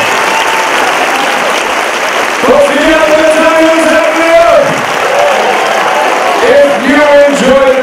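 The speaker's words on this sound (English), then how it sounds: "Let's give him one more big round of applause." A theatre audience at a stage hypnosis show gives a loud, sustained round of applause, dense clapping that carries throughout while a voice rises over it at times.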